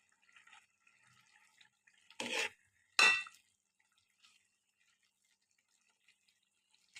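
Spoon scraping and stirring an egg, tomato and meal maker curry in a pot, two short distinct stirs with soft kitchen clinks around them, otherwise quiet.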